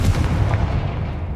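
The Confringo explosive spell going off in Hogwarts Legacy: a single loud, close boom with a rumbling tail that fades over about a second, no voices.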